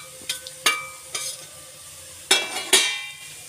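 Wheat flour halwa stirred and fried in ghee in a pan: scattered scraping strokes of a spoon against the pan come at irregular intervals over a faint, steady sizzle, close up and with no talking.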